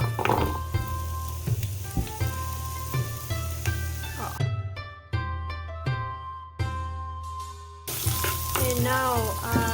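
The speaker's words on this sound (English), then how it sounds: "You have to start frying with the harder vegetables. Carrots are really hard vegetables" Carrots and other hard vegetables frying in a pan, a steady close sizzle running throughout alongside tonal background sounds, with brief breaks where the hiss thins out.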